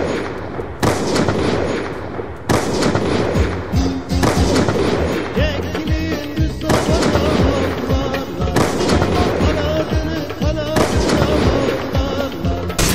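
Rifle fire from an SLR in the game PUBG, loud sharp shots in irregular clusters and single cracks over about thirteen seconds, with faint talk underneath.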